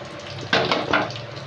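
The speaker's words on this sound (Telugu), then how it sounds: "ఇప్పుడు ఇట్లా నలుపుకొని వేసుకుంటే చక్కగా నూనెలో మగ్గిద్ది అనమాట" Salted, squeezed bitter gourd pieces hit hot oil with a short, close burst of frying hiss and crackle that quickly settles into a steady sizzle.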